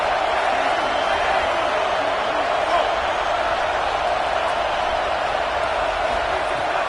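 A packed stadium crowd at a college football game keeps up a loud, unbroken roar on a fourth-down play, with no single voice standing out from the wash of noise.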